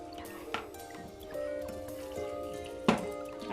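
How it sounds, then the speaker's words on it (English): Water is stirred into spiced bhajia batter paste in a bowl, giving soft, quiet wet squishes and a few sharper splashy clicks, faint and close. "And then I'll add water and then mix"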